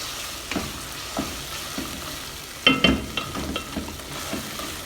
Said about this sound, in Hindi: इसको थोड़ा सा फ्राई करेंगे कि जिंजर गार्लिक पेस्ट का कच्चापन दूर हो जाए।